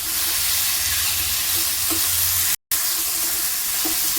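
Cluster beans and potato pieces frying in hot oil, a steady close sizzle that continues throughout with a few light stirring clinks and a brief dropout partway.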